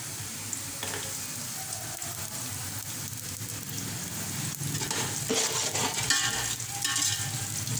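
Garlic sizzles and crackles steadily in hot oil in a pan while a spoon stirs now and then, the frying growing slightly louder toward the end.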